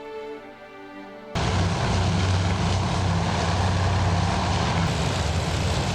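Propeller scout planes flying in the Task Force Admiral naval strategy game, a loud steady engine drone that kicks in abruptly after a quieter musical opening and holds constant.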